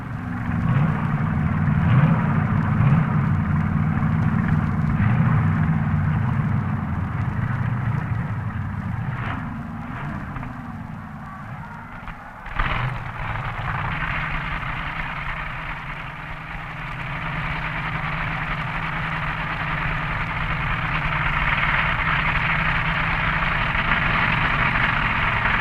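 A Chevy-powered B dragster rumbles at the 1961 NHRA Winternationals, a loud steady engine drone with a brief sharp burst midway before settling back into a sustained roar, with no voices.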